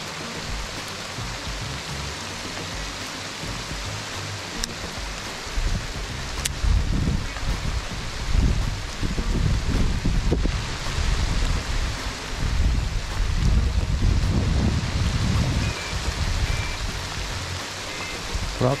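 Heavy rain pours steadily during a fishing trip, a dense hiss with bursts of wind buffeting the microphone, loud and close throughout, with no voices.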